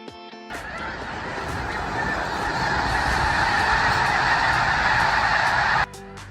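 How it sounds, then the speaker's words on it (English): Snow geese honk in a large migrating flock, a dense continuous chorus of overlapping calls that begins abruptly, holds loud and steady for several seconds, then cuts off near the end. "The snow geese are beginning their long journey to the Arctic after winter"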